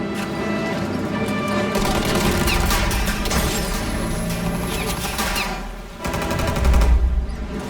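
Sustained automatic gunfire in the Mafia Definitive Edition video game, a dense loud stream of rapid shots with a brief lull near the end before a heavy burst resumes.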